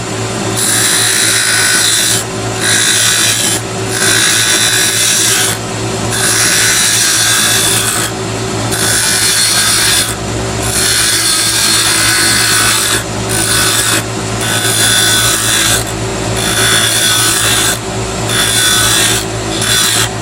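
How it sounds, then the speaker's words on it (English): A spindle gouge cutting a wooden chess king on a lathe gives a loud, continuous close scraping hiss, broken by brief regular pauses as the tool lifts and re-engages, over a steady motor hum. "I'm going to come back with my spindle gouge and work this back over"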